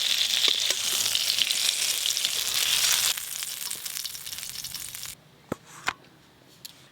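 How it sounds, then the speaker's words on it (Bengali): Eggplant slices frying in oil in a pan, a loud continuous sizzle that drops in level partway through and then cuts out, leaving a few sharp clanks of a utensil against the pan. "বেগুনগুলো ভালো করে ভাজা হয়ে গেল, তুলে নেব"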